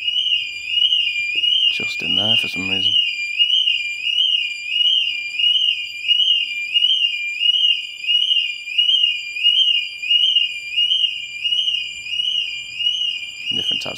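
Electronic alarm inside an abandoned Debenhams department store, a loud continuous warbling tone sounding steadily throughout, close by, with a brief spoken remark near the start.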